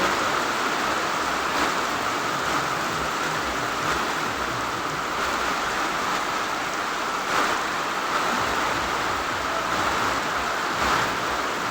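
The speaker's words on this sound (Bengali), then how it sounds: "চারদিকে বৃষ্টি বৃষ্টির জল চারদিকে বৃষ্টি এত বৃষ্টি" Heavy downpour of rain falling steadily, a dense, even roar of water that stays loud and unbroken throughout with no voices.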